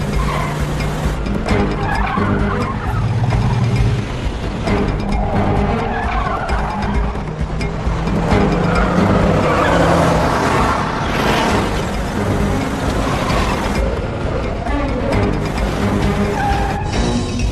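A car driving hard, with loud continuous engine roar and long tire skids and squeals filling the whole stretch, close and without any talk.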